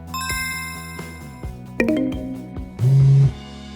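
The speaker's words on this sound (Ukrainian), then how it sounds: "пейджер оповіщає миготливим led світлодіодом, звуковим сигналом або вібрацією" A World4Carp Sensor X fishing bite alarm gives several electronic beeps and tones in quick succession, ending with a longer, louder buzzing tone, clear and close with no talking.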